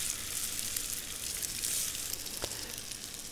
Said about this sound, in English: So what we want to do is just brown the outside of these meatballs.